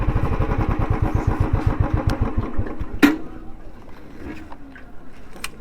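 A motorcycle engine idles close by with a steady, pulsing throb while being parked at Ocean Ghat in Digha, then cuts off with a sharp click and fades into quiet outdoor ambience.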